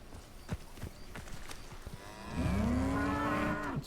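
A cow in Hogwarts Legacy lets out one long, loud, drawn-out moo after a few soft footstep-like knocks in the game world.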